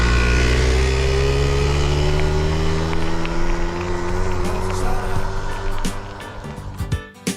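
Cars travel a road running alongside the Jesolo–Treviso cycle path, one passing close with a loud, steady engine drone whose pitch slowly sinks as it moves away, ending in a few sharp knocks and rustles.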